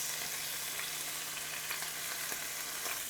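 Shrimp fry in a hot pan for banh xeo, a steady close crackling sizzle with small pops scattered through it and no talking.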